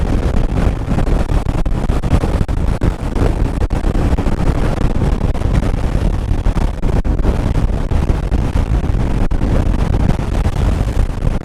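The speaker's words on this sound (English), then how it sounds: "it's a little windy out" Strong Arctic wind on a motorcycle trip roars and buffets the microphone continuously, a loud, steady rumbling gust with no break throughout.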